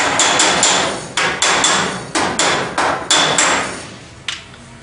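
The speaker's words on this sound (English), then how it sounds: "Hammer on dolly, direct hit." Hammer striking a dolly directly on a dented car panel, about a dozen sharp metallic blows in quick irregular succession. Each strike rings out close and loud and then fades.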